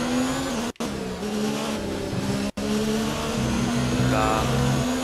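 Formula 1 race car engine in F1 2019 on the Belgian Grand Prix, overheating and held at low revs, a steady droning whine with two brief cutouts and a slight pitch rise near the end, loud with no talk.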